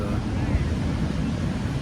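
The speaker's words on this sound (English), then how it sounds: "I'm sitting at the beach here at Myrtle Beach and enjoying some waves." Ocean surf at Myrtle Beach, a steady loud wash of waves mixed with wind rumbling across the microphone, with no breaks.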